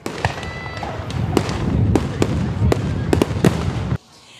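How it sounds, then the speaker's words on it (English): Fireworks at a community National Night Out evening celebration in Munster: a rapid series of sharp bangs and crackles over a steady rumbling crowd-like wash, ending abruptly into near quiet. "The evening wrapped up with the annual fireworks display."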